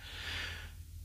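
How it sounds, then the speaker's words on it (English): A single tactical breathing exercise breath, a soft close exhale rushing out for about half a second before fading into quiet. "That is tactical breathing."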